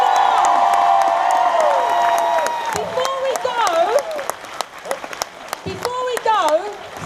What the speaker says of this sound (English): Keep the applause going for Catherine Tate, everyone.